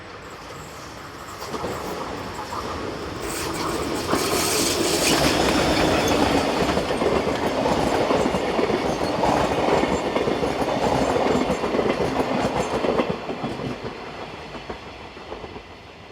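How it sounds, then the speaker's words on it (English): An Austrian 1142-class electric locomotive hauling a stopping passenger train approaches, its rumble swelling to a loud, sustained roar with rhythmic wheel clatter, then easing off toward the end. "Approaching the camera with a stopping train from Atnang-Puchheim is 1142-628."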